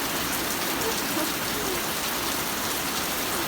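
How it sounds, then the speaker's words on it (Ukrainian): Heavy rain pours steadily outside a house, recorded from the porch, a dense, continuous hiss of drops hitting surfaces with no breaks and no voices. "О, він посилюється, цей шалений дощ."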